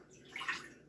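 A cup of almond milk poured into a mixing bowl for a cauliflower fried chicken sandwich batter, a brief, soft liquid splash that swells for under a second, close and quiet.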